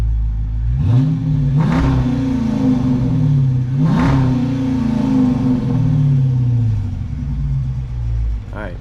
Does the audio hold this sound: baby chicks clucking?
no